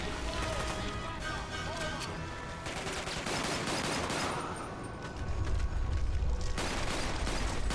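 Rapid bursts of video game gunfire from 007: Quantum of Solace on Xbox 360, dense crackling shots layered over game music and effects, with someone talking over the action.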